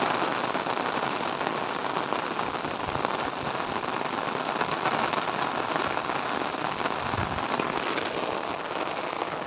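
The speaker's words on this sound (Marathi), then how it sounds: "पाऊस मोठा पडलेला आहे" Heavy rain pours down steadily, a dense continuous hiss of drops striking surfaces all around, with no voices.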